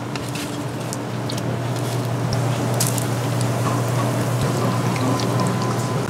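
Chicken wings sizzle steadily in hot oil, a dense, even crackle and hiss that holds throughout without pause.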